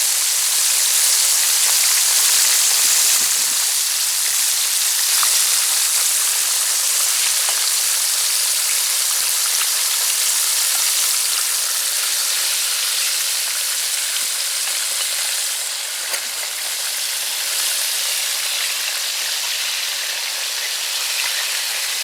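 Fish pieces for Bangamary fish curry frying in hot oil, a steady, loud sizzle with constant crackling that holds evenly throughout.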